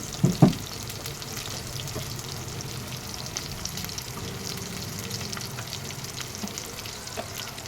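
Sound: onion frying in oil

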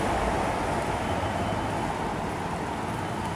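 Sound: light rail train passing

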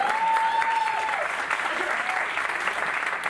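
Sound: audience applause

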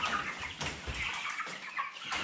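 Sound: Ross 308 broiler chickens and cockerels

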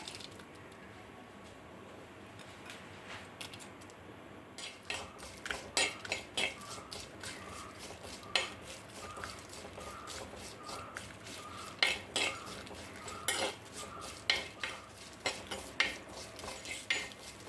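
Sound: dry roasting dried prawns in a pan

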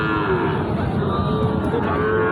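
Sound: cow mooing at a cattle market

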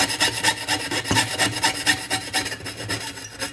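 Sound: sawing a metal spatula with a saw

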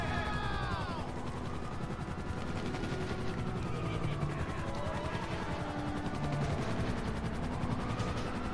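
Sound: helicopter in video game GTA V

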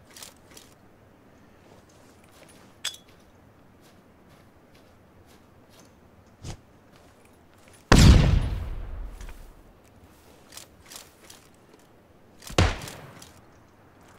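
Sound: bolt-action rifle gunfire in a video game

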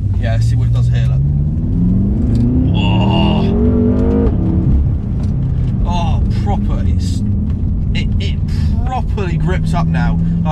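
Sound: BMW M5 driving fast on a track

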